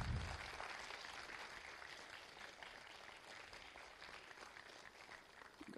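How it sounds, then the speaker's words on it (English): Audience clapping at a Python conference keynote: a faint, distant wash of sustained applause from a crowd, steady throughout with no voices on top. "Keep the claps going."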